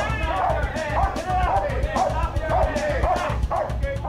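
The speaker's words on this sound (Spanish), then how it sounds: "El perro atacó" A dog barks and yips repeatedly in a rapid, agitated series during a police raid in Houston, with muffled voices and commotion underneath.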